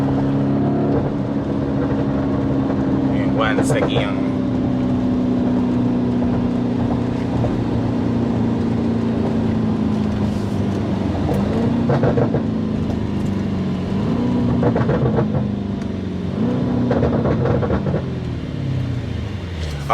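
A 2022 Harley-Davidson CVO Road Glide motorcycle rumbles steadily while riding toward a freeway, its deep engine and exhaust drone continuous with a few rising revs and shifts, loud throughout with a brief spoken word.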